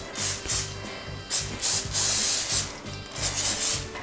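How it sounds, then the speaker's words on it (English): Several short bursts of aerosol spray hiss, close by, in quick uneven pulses with brief pauses between, plus faint mechanical rattling, while preparing waffles. "I'm gonna be using this spray."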